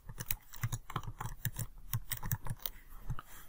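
Fingers type on a computer keyboard in quick, uneven bursts of close, light key clicks, with a few short pauses between words and no voice.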